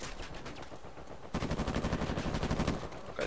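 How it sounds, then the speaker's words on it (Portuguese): Gunfire erupts as a player shoots in Uncharted 4 multiplayer: after a moment of rapid light shots, a loud, steady automatic burst of rhythmic rounds fires close by, with no talk over it. "Ó, tem um cara aqui atirando."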